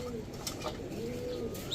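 Bombay pigeons kept in a home loft give a soft, low coo that is faint and brief against quiet background noise.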